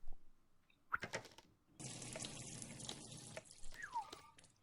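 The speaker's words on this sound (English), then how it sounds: "Is that water?" Water dripping in the junkyard point-and-click adventure game Deponia, a few sharp drips at first and then a steadier watery trickle, close and clear with no talk over it.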